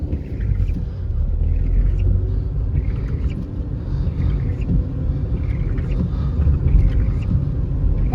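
A 2009 Pontiac G5 coupe with a manual gearbox drives along with a steady, deep low-end drone of engine and road rumble. The noise stays continuous and fairly loud, with no talk.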